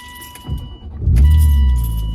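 A BMW E36 M3 sedan engine turns over briefly, then catches and settles into a loud, deep idle close by, with a faint jingle of keys and dashboard chimes.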